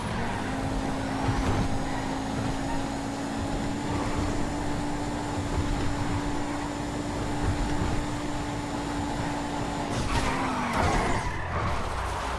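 A fast car races in GTA FiveM, its engine a sustained, even drone with tire skidding mixed through it, ending in a brief burst of noise, and no talk.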